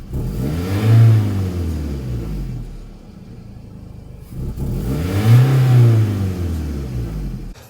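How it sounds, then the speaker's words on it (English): Car engine with multiple random misfires revving up twice, each time rising in pitch then hesitating and dropping back, loud and close with a rough rumbling tone and no talk. "We accelerate it, it hesitates."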